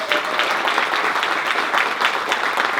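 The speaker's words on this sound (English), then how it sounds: "And also a round of applause for the ASL interpreters." An audience applauds for sign language interpreters at a storytelling event, a busy patter of many hands clapping at close range, slightly uneven and lively throughout.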